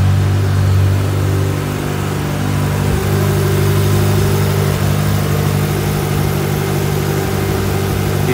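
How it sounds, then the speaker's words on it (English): A 1995 Ferrari F355 GTB with a 2B exhaust idles steadily after a cold start, its low, even exhaust note loud and close throughout with no talking. "That 2B exhaust sounds real nice."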